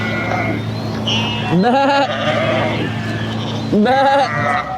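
Two loud, close sheep bleats, wavering and nasal, separated by a couple of seconds over a steady engine-like drone.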